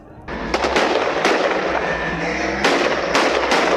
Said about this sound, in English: Above their heads, rockets fired toward Israel are intercepted